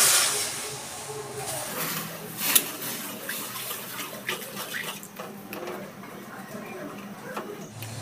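Half a bowl of water poured over melting date-palm jaggery in a hot pan, a steady hissing, steaming rush that runs throughout with small clinks and bumps along the way.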